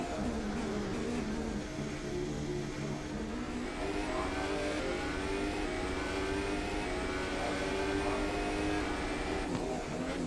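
Sim racing car engine accelerating at the Austrian GP qualifying, a steady high-pitched engine note climbing through gears, continuous and moderately distant-sounding, heard alone.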